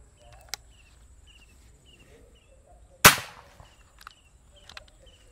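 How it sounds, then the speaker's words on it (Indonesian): A single sharp, cracking PCP air rifle shot rings out mid-clip, loud and close, with a brief decaying tail, set against a quiet background of faint insect chirps. "Lanjut tembakan kedua."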